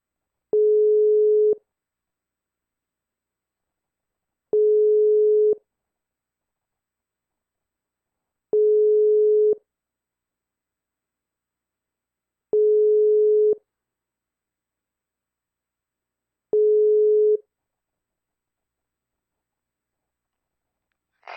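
A French telephone ringback tone sounds while a call is being placed, five evenly spaced steady beeps about a second long with quiet gaps of around three seconds between them, clear and alone.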